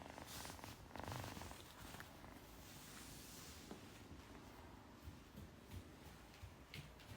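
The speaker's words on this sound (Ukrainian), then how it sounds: "Хіба муркоче добре?" A kitten purrs close up with a soft, continuous rumbling rhythm, quiet and steady, with small handling rustles and bumps now and then.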